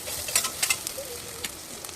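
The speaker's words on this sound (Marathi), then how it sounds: "ते व्यवस्थित फ्राय करून घेऊया." Onion, tomato, coconut, garlic and ginger frying in a pan, a soft sizzle with a few sharp crackles and scraping stirs, close and fairly quiet, with no talk.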